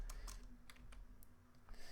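Quick bursts of keystrokes clatter on a computer keyboard while typing into a Minecraft modpack, with a low steady hum underneath.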